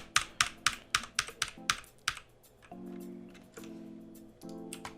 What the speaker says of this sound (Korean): 그러면 컨트롤 알트 점을 눌러서